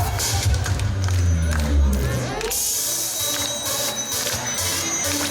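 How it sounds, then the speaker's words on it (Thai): At a live concert in a shopping centre, a crowd claps and cheers along with the music, with loud amplified sound and voices over the dense, busy clapping. "ยกสองมือขึ้นมาปรบมือให้จังหวะกัน"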